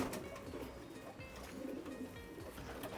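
Racing pigeons in a pigeon loft cooing softly at a distance, low repeated coos blending into a steady bed of background noise with no talk.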